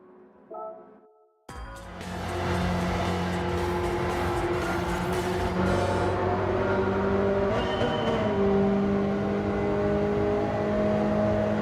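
After a short quiet stretch, a race car engine in a Gran Turismo 7 or Forza Motorsport video game roars to life and holds a loud, steady high-revving drone, shifting pitch slightly as it runs.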